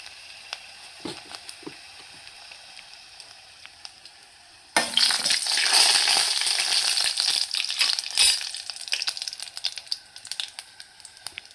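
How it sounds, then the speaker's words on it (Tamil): Mustard seeds splutter and dried vathal fries in hot oil for a South Indian evening snack; a few quiet ticks give way halfway through to a sudden loud, dense crackling sizzle that continues close up. "கடுகு பொரிஞ்சதும் வத்தல் போட்டுடலாம்"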